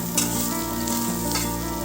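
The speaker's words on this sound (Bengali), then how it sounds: "খিচুড়ির চালটা ভেজে নিচ্ছি" Rice dry-frying in a pan for khichuri, a close, steady sizzle with scraping stirs that rise briefly, over a constant background hum.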